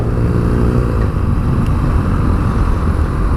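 A 2017 BMW R nineT Urban G/S motorcycle on the move, its engine a loud, steady droning rumble mixed with wind rush, close and unbroken throughout.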